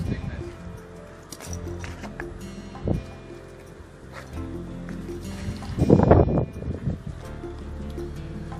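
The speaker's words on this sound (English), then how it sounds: "I'm dipping it into clean water to make sure that it's completely free of any biological stuff" Pieces of dry Pukani rock dipped and rinsed in clean water, giving soft sloshes and a louder splashing burst near the end while someone talks over it.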